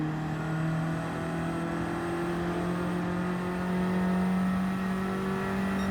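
A race car in a racing video game takes a final corner with a bit of sliding, its steady, whining engine drone holding sustained harmonic tones at moderate level throughout, with no talk.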